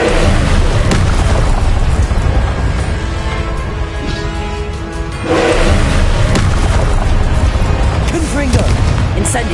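Loud fiery blasts from Confringo explosion spells cast in Hogwarts Legacy on PS5, booming repeatedly over dense, continuous combat noise with a brief lull in the middle.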